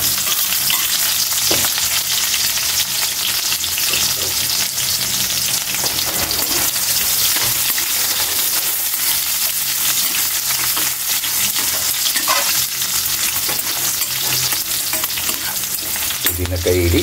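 Onions sauté in an oiled pan for pancit gisado, giving a loud, continuous sizzle with occasional stirring scrapes and a few brief clinks, close and unbroken for the whole stretch.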